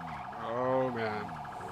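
A police car siren in a video game roleplay, wailing with rising and falling tones for under two seconds, fairly close and clear.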